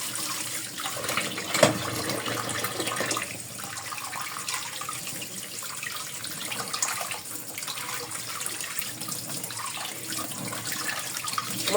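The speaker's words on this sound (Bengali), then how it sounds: "এগুলোকে আমি ঠান্ডা পানিতে ধুয়ে তারপর পানি ঝরা দিব।" Boiled noodles are rinsed under cold running tap water, a continuous splashing stream with small shifts and bumps as the noodles are handled, steady and close, with no one speaking.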